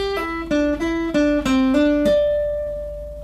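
An electric guitar plays a quick tapping riff with hammer-ons, a run of bright, sustained notes stepping in pitch before one final note rings out and fades, with no talk.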